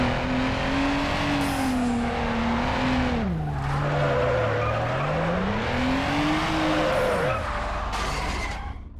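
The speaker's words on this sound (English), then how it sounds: "at least the cars are more tail-happy specifically for the drift event" A rear-wheel-drive car drifts in the video game Need for Speed: Underground, its tires squealing in a long wavering whine that bends down and back up over several seconds, with engine roar underneath and no talk.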